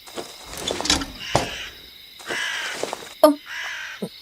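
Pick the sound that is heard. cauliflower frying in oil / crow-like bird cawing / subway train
crow-like bird cawing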